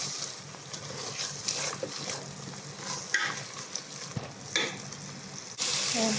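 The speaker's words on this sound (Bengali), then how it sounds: "এটাকে দিয়ে আমি ভালো করে মশলাটা কষে নেব" Spice masala with turmeric powder being sautéed in a pan for a sea fish curry, an even close sizzle with scattered scraping knocks of a spoon, no talk.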